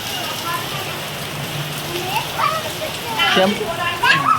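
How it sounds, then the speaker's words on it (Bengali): Heavy rain pours steadily in a dense, constant wash, with voices talking and exclaiming over it. "বিশাল বৃষ্টি নেমেছে"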